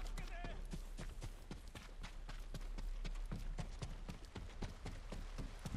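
A horse gallops in the video game Ghost of Tsushima, its hooves beating in a quick, even rhythm. The steady hoofbeats are faint and sit under a low background hum.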